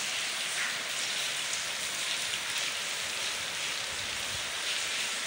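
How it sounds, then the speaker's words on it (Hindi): Heavy stormy rain pours steadily through the night in a village, a dense continuous hiss of downpour on surfaces, loud and unbroken with no voices. "बहुत तूफानी बारिश लगी है रात भर तो"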